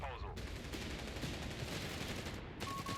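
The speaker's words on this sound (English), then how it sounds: "I think that's Magma Carp calling in artillery." Company of Heroes 3 4v4 battle with dense crackling gunfire and a steady din of combat filling the scene, a sharper burst at the start and faint tonal game sounds near the end.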